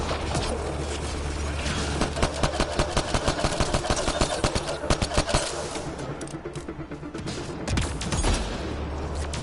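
Shotgun blasts from the Mass Effect Andromeda video game, loud bursts fired in quick repeated succession amid layered game effects and combat noise, with a voice talking over parts of it.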